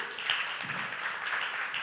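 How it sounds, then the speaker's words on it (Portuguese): Church congregation applauding at an evening service in Rio, a steady, fairly distant wash of clapping that holds evenly from start to finish without talk. "Vamos aplaudir a Jesus?"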